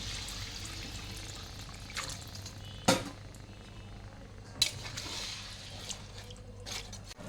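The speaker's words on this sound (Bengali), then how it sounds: "এখন আমি গরম জল দিয়ে দিচ্ছি" Hot water goes into a spiced curry gravy in a pan, a faint liquid pour and bubbling with a couple of sharp clinks, quiet and close.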